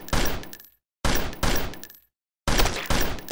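Three separate bursts of rapid gunfire from the Zombie Hunter Fire shooting game, each loud, close and about half a second long, cut off by abrupt stretches of silence.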